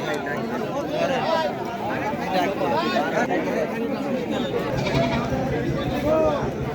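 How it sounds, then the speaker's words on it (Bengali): Goats bleat repeatedly at the Taherpur goat market in Bagmara, Rajshahi, overlapping calls rising over steady crowd chatter and voices close by. "তাহেরপুরের হাট ছাগলের হাট আপনারা দেখতে পাচ্ছেন ক্যামেরার সামনে অনেকগুলো ছাগল"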